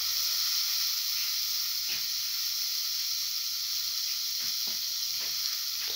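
Tomato pieces hiss and sizzle steadily in a hot pan of frying eggplant and cottage cheese stew, a continuous close bright frying noise with a few soft stirring clinks, no talking.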